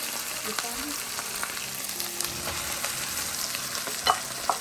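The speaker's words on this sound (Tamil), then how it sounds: "இப்போ பார்த்தா விளங்கும் தக்காளி ஆயிலோடு நல்லா மிக்ஸ் ஆகி வெங்காயமும் கொஞ்சம் நல்லாவே வதங்கி வந்த" Onions and tomatoes fry in oil in a pan, giving a steady, close sizzle with occasional stirring scrapes and small pops, no voices over it.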